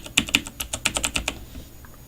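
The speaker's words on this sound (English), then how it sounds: "Now here's the sound of my mechanical keyboard." Rapid clacky keystrokes on a mechanical keyboard, close and crisp, a quick burst of typing that stops abruptly.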